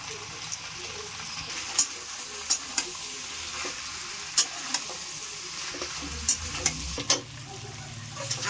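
Jackfruit curry, made from young green jackfruit, stir-fried in a pan after Kashmiri chilli powder goes in, giving a steady sizzle with sharp scraping strokes of a spatula every second or so, close and moderately loud, with no talking.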